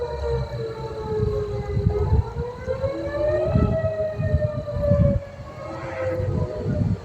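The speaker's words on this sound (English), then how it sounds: "More tornado sirens." Civil defense tornado sirens wail across Arkansas during a storm, their long rising and falling tones overlapping from a distance over gusty, rumbling wind.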